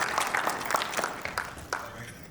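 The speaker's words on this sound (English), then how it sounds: "let's do a little round of applause for" Applause from a convention panel audience at WonderCon 2023, a brief round of clapping that starts moderately loud and fades over a couple of seconds, with scattered individual claps standing out.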